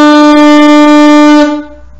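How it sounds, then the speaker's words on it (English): A saxophone held in front of the player sounds a steady, loud, sustained note fingered with the first finger pressed down, then cuts off cleanly near the end with no talk. "using my right hand to float the saxophone in front of me, if I push down the first finger, I should be able to get this note."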